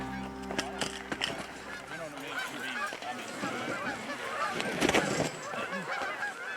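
Geese honk repeatedly in a field in Manitoba, several birds calling close by in overlapping bursts while people talk nearby.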